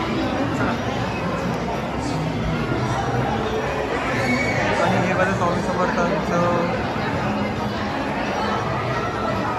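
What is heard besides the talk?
crowd chatter at Swami Samarth temple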